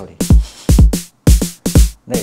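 Four TR-909-style snare hits from a drum machine, each a sharp, loud crack with a noisy burst and a short tonal thump underneath, spaced roughly half a second apart with no talking.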